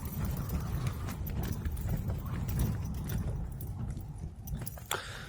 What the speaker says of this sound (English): The wind is rattling round,